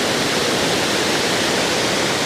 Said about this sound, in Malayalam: അപ്പോൾ ഇതാണ് ബ്ലാപ്പിലെ വെള്ളച്ചാട്ടം.